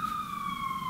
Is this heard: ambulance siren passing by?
yes